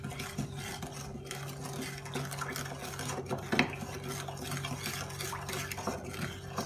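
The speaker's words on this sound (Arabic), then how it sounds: "سكر، ملعقة صغيرة فانيلا، بنحركهم مع بعض." Spoon stirring sugar, vanilla and starch together in a bowl, a steady close scraping and clinking with light rhythmic knocks against the bowl over a low background hum.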